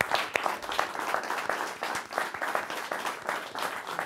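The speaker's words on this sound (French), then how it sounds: "Applaudissez-vous." A French television studio audience applauding, a dense, steady round of many hands clapping at close range, continuing throughout without anyone talking over it.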